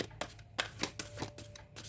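Close, quiet shuffling of a tarot deck, a quick series of papery card slaps and riffles in an uneven rhythm, with no voices.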